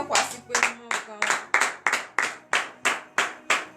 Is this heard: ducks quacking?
no